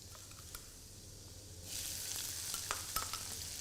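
Boiled potato and green peas hit hot oil in a Chettinad-style fry, a quiet hum giving way abruptly to a steady sizzling hiss with a few soft stirring scrapes, close and unaccompanied by talk.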